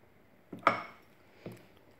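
Homemade peanut butter stirred in a pan, a few light utensil scrapes and knocks against the pan, faint and spaced apart with quiet between.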